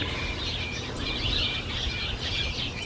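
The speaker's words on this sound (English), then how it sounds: "I think the little birds are all still excited about the smorgasbord they're being" Small birds chirp at a garden feeder, a busy cluster of faint high twittering calls repeating over steady outdoor background noise, with no talking.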